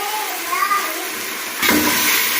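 Water is poured into a pot of meat and biryani masala, giving a steady splashing rush that surges louder partway through, with a voice speaking over it.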